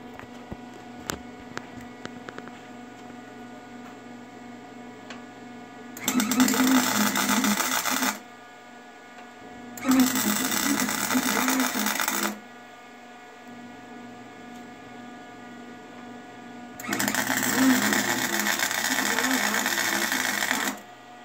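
A Harbor Freight MIG 180 welder tack welds a lawn mower deck in three loud buzzing crackling bursts of about two seconds each, separated by quieter stretches of background electrical hum.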